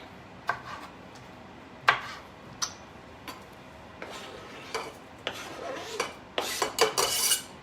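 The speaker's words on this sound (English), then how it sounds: "this is the awesome thing about our ceramic knife. Chops up tomatoes easily" A ceramic knife chops through tomatoes on a board, giving a series of sharp, close taps spaced irregularly at first, then quickening into a denser burst of cuts near the end.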